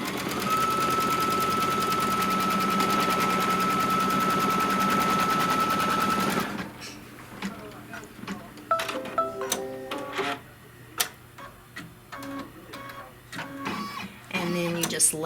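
Home sewing machine threaded with neutral thread stitching a placement line on a fabric mug rug, a loud steady whirring run for several seconds, then stopping and giving way to scattered handling clicks and taps.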